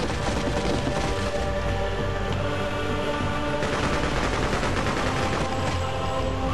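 Sustained gunfire fills a battle in the video game Freedom Fighters, with dense overlapping automatic bursts and explosions at constant loud volume.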